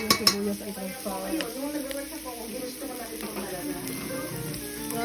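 Onions sauté in a pot for sinigang while a utensil stirs and scrapes against the metal, with soft sizzling underneath and a few sharp clinks near the start.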